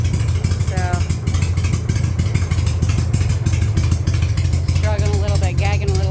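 A Harley motorcycle that has sat unused for a long time runs loud and close with a rough, lumpy idle and uneven, stumbling revs. Someone talks over the engine.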